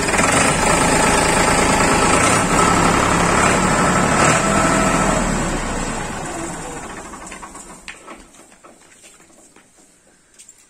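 A 2019 Farmtrac 42 Champion tractor engine idling loudly with a steady diesel chug and rattle, then shutting down and fading out to quiet with a few small knocks.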